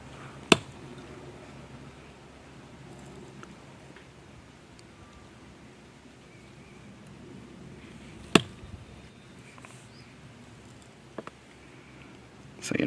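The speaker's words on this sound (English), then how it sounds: "I'm just going to do a quick stab test into the wood." A Spyderco Gayle Bradley 2 knife stabbed into wood gives two sharp, isolated impacts several seconds apart, close and fairly loud over quiet room tone, with a faint third tap near the end.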